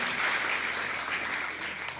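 Audience at an evening stage show applauding sponsors as their names are called, a steady dense wash of clapping from many hands filling the whole stretch at moderate loudness, with no voices standing out.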